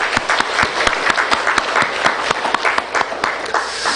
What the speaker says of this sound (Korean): 영광의 박수를 올려드리시겠습니다